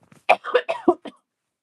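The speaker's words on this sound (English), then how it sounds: "Sorry about coughing." A person coughs several times in a quick, close cluster, a short burst of harsh rasping hacks that ends abruptly.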